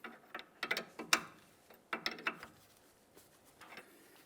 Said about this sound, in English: Let's bottom out this jam nut with the outer tie rod end.